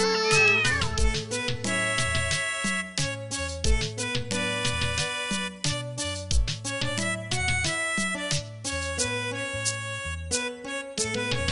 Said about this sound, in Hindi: बिल्ली करती म्याऊं